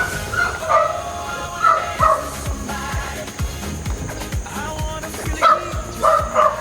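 A dog barks and yips in repeated bursts, fairly close, over a busy background of other noise.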